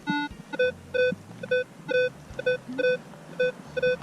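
A Minelab Equinox metal detector sounds over a 1974 Canadian 25-cent coin in a garden, giving a series of about eight short, clear electronic beeps in a steady rhythm with faint background noise between them.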